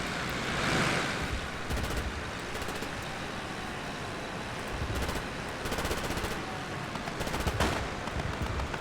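Enemy machine gun fire in the Korean War strategy game Theater of War 3 during a North Korean human wave assault: several rapid bursts of moderately distant automatic fire over a steady roar of wind-like battle ambience.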